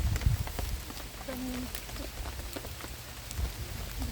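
Rain falls steadily on surfaces at a picnic BBQ site in Hong Kong, a soft continuous patter with scattered drops and faint background voices.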